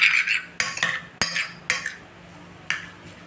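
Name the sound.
whisking an egg in a bowl with a utensil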